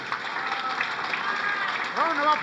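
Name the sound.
audience applause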